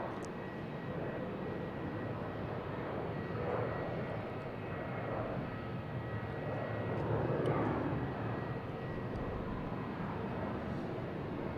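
A JetBlue Airbus A321 at Boston Logan Airport hums with a steady, moderately loud engine drone heard from nearby. The noise holds even throughout and swells slightly near the middle.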